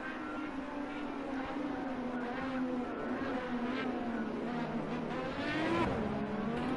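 IndyCar race cars roll on a formation lap in a racing video game, the steady engine drone held close and continuous, rising slightly near the end.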